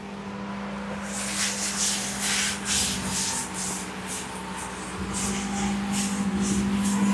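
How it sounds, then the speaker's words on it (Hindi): Written math on a classroom board is wiped off with steady rhythmic rubbing strokes, close and fairly loud, over a constant low electrical hum, with no talk. "लेट मी जस्ट रब ऑल ऑफ इट।"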